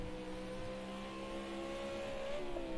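Engine of a V8 Supercar in a racing video game hums along at low revs, a steady, faint buzzing drone that rises slightly in pitch near the end.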